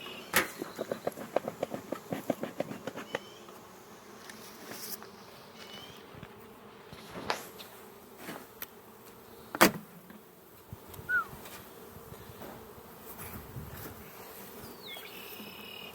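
Honey bees buzz around opened hive colonies during a beekeeping inspection, a faint steady hum with scattered clicks and knocks of hive equipment close by.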